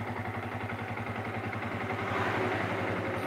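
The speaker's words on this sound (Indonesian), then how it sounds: "Nah ini suara mesinnya bisa didengar oleh teman-teman sendiri." A Yamaha Vixion motorcycle engine idles after a valve adjustment, giving a steady close, moderately loud mechanical rumble with light clatter throughout.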